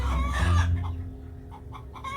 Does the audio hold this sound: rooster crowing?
yes